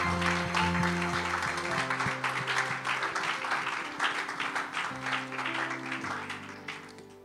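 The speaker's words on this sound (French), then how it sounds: "Encore une fois de plus, est-ce qu'on peut acclamer le Seigneur?" A church congregation applauds in praise, a dense sustained wave of many hands clapping that fills the room, with organ or keyboard chords sounding underneath and slowly tapering off.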